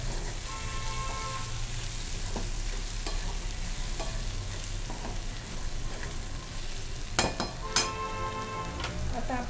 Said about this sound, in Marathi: थोडीशी कोथिंबीर टाकून घेते, 2 मिनिटं परतवून घ्यायचं